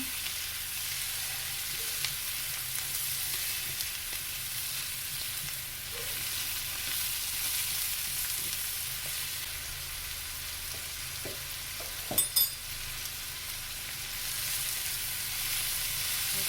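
Chicken pieces and vegetables fry in a pan with a steady, soft sizzle throughout, broken by a few faint clinks and a brief louder scrape of stirring near the end.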